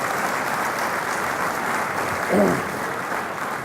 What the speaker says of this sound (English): Let's all give all of us a real big clap.